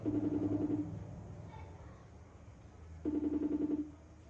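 A telephone call rings out through the handset, giving two long burbling ring tones about three seconds apart with a quiet gap between them and no one answering.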